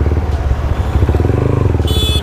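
Motorcycle engines rumble steadily on a road near a checkpoint, a continuous close, loud droning with clattering texture and no talk.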